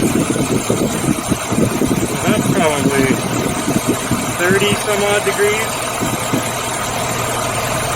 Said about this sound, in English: And that's why it's idling higher.